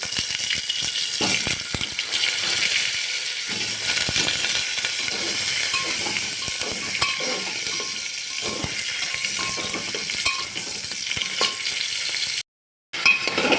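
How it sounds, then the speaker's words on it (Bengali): Potatoes are stirred and fried in hot oil with fried whole spices, giving a steady, close sizzle with scraping stir strokes throughout and a brief break near the end. "আলুটা একটু তেলের মতো নাড়াচাড়া করে নিয়েছি।"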